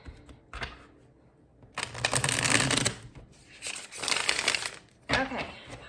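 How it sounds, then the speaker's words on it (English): Tarot cards are shuffled by hand in repeated bursts of riffling and slapping, each lasting about a second with quiet gaps between, close and crisp, with no talking. "We'll get one more shuffle."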